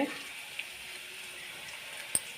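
Curry leaves frying in a pan give a soft, steady sizzling hiss, low and even throughout, with a faint click near the start and a brief sharp tick near the end.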